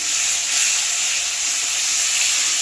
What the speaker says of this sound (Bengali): হলুদ, অল্প জল দিয়ে মশলা কষাবো।